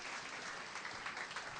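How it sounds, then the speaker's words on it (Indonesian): A church congregation applauds together, a dense, steady burst of clapping that fills the short moment at moderate distance. "Yang setuju berikan tepuk tangan yang meriah buat Tuhan"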